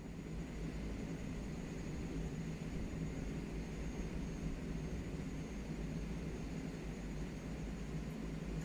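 Aircraft taking off in Microsoft Flight Simulator 2024, a steady, dense engine roar holding at constant level from start to end with no voices.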